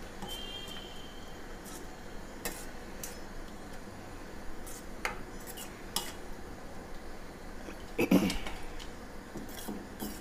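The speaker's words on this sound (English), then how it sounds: "So we'll just give this a nice mix." Utensil stirring tomato puree into a spinach, potato and red lentil dish in a pan, giving soft scraping and clinking sounds with a brief sharper clatter near the end, no talking.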